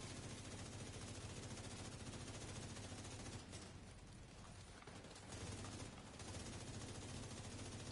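Video game battle gunfire, a continuous rattle of rapid automatic shots at low volume, briefly thinning in the middle before resuming steadily.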